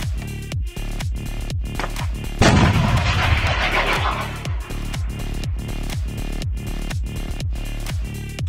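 Stugna-P anti-tank missile launch near Izium, Ukraine: a sharp, loud blast breaks out, followed by a roaring rush that fades under a steady, rhythmic pulsing background.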